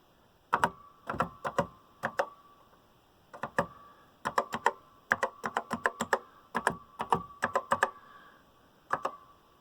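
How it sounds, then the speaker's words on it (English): Keys clack on an iMac G3 Bondi Blue computer keyboard, crisp close clicks in quick irregular bursts separated by short pauses. "you need to press on the E key a lot"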